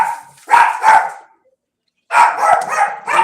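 A dog barks in two loud, close bursts of several sharp barks each, separated by a second of silence, with no talk.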